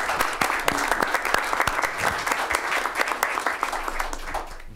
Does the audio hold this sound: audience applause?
yes